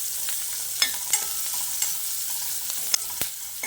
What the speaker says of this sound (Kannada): ಈರುಳ್ಳಿ ಸ್ವಲ್ಪ ಹಾಕ್ಕೊಳ್ಳೋಣ